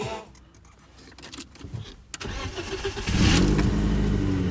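A budget winter-beater drift car's engine cranks and catches after a click and brief electric whirr, then settles into a steady, loud close idle with no voices.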